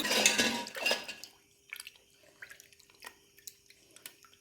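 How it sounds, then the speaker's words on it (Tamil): Silver puja lamp being scrubbed, a burst of scraping and clinking at first, then scattered small taps and drips in a quiet space. "இப்போ சும்மா தேய்ச்சி விட்டுட்டு தான் இருக்கேன்"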